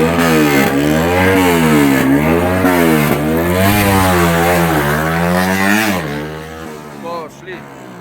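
Loud racing engines rev up and down in repeated surges close by at a makeshift competition track, a powerful roar that fades somewhat toward the end.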